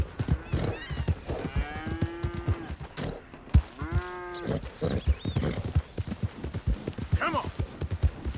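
A horse gallops in Red Dead Redemption 2 with steady, rapid hoofbeats, and a couple of loud whinnies and snorts rise above the drumming, a voice speaking briefly in between.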